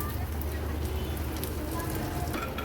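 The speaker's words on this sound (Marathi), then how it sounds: "अशाच पद्धतीने उरलेले ब्रेडच्या स्लाइस आपण अशाच सोनेरी रंगाच्या होईपर्यंत तळून घेऊया" Bread slices for shahi tukda frying in a small amount of ghee in a pan, giving a steady, soft sizzle and crackle throughout at a moderate, even level.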